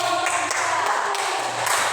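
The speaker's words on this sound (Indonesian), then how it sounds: "Tepuk tangan ya." A primary-school class applauds during a science teaching practice lesson, dense steady hand clapping at close range with a low hum underneath and no talk.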